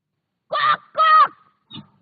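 Children's voices imitate a rooster crowing in two loud, strained calls followed by a brief softer one, close by.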